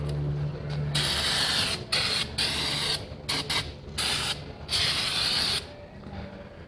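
Brake cleaner sprays onto the engine of a 1968 VW Karmann Ghia in a series of loud hissing bursts of varying length, close up, with brief mechanical clicks between them.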